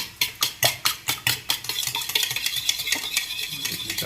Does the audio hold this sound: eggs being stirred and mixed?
yes